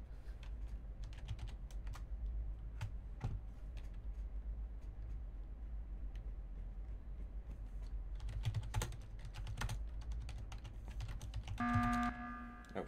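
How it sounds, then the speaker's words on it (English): Rapid typing on a computer keyboard during an online game session, steady clicks over a constant low hum, with denser bursts of keystrokes near the end. "Oh shit, I didn't get to finish typing."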